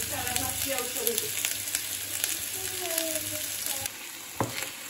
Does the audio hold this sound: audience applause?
no